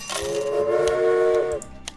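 A train in the video game Railway Empire sounds a sustained steam-style whistle, a loud steady tone that holds for over a second before cutting off, with rolling rail noise and clicks beneath.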